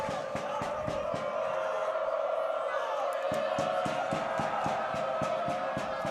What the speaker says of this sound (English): Crowd's heating up.